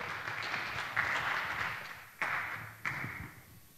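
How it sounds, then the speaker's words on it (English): Audience applause after a speaker is introduced at a privacy software conference talk, a moderate steady patter of clapping with a few sharper bursts and thumps. "Please give a warm round of applause to Anani."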